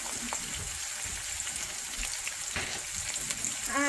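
Hamburger patties sizzle and fry in a pan with a steady crackling hiss, close and continuous, with a few faint scrapes near the end.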